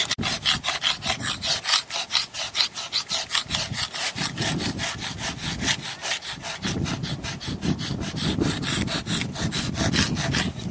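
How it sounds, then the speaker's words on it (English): A steel chisel is drawn in steady back-and-forth scraping strokes across a stone sculpture, smoothing out rasp marks, and the abrasive rubbing sounds continuous and close up. "So I do it with the chisel."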